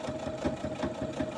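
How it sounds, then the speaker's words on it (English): A sewing machine top stitching a linen mini dress, its motor running in a steady, rhythmic whir with regular pulsing stitches, close and continuous with no talk. "I'm going to carefully take this to my machine and top stitch it"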